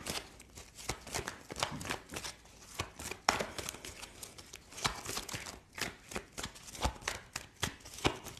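Tarot cards being shuffled by hand, a steady series of quick papery riffles and slaps, close and fairly quiet, with no talking over it.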